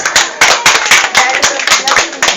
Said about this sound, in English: Let's give Michael a round of applause.